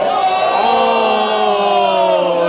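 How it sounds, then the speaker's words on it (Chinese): A background crowd of passersby jeering and whooping, a loud, continuous mass of voices with rising and falling shouts, dense and unbroken throughout. "这背景路人的声音。"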